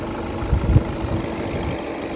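A low, steady diesel engine idle of a Skoda Octavia 1.6 rumbling close by, even and continuous with a faint vibrating hum and no voices.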